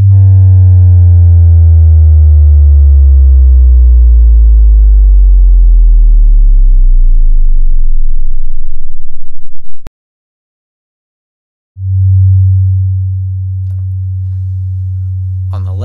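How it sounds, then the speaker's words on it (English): A steady pure sine tone sweeps smoothly downward in pitch, driving a coil beneath a ferrofluid display, loud and alone; it cuts out abruptly, then after a pause a low steady hum returns. "I'll play the sweep alongside so you can hear it"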